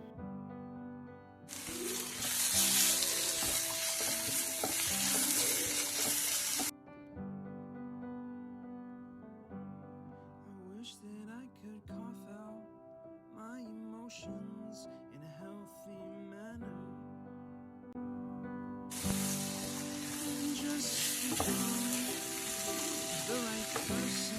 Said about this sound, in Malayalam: ഞാൻ ഇപ്പുറത്തെ സ്റ്റൗവിൽ ഉള്ളി വാട്ടുന്നുണ്ട്